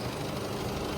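An Isuzu 4JJ1 3.0-litre diesel engine in a seven-seater SUV runs at idle, a steady, low, even rumble heard close up for a brief moment with no voices.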